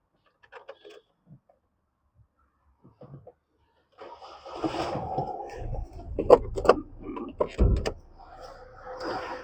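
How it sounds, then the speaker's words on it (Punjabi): A used diesel car engine cranks and catches after a few quiet clicks and knocks, then idles roughly at close range with clattering bursts. "ਸਭ ਤੋਂ ਪਹਿਲਾਂ ਇੰਜਨ ਹੀ ਸਟਾਰਟ ਕਰਕੇ ਦਿਖਾ ਦਾਂਗੇ"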